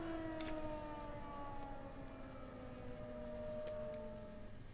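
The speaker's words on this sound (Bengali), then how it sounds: "পাঠানকোট অমৃতসর জম্মুতে বাজলো সাইরেন" An air raid siren wails in Jammu: a sustained, droning tone that slowly sinks in pitch, heard at a distance and fairly faint over low background noise.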